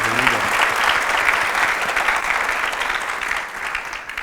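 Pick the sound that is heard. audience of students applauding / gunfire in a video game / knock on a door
audience of students applauding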